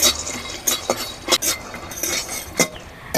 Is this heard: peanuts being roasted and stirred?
yes